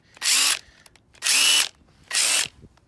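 A Harbor Freight Earthquake XT 1/2-inch cordless impact wrench with a brushed motor runs in three loud, even bursts of about half a second each, with short pauses between them and no talking.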